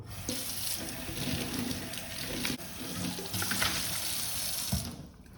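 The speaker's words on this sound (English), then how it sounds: "just soap it up, wash it, rinse it, and leave it to dry on the draining board" A cycling water bottle is rinsed under a running kitchen sink tap, water splashing and gurgling steadily with shifting tone as the bottle moves through the stream, close and continuous, with no voices.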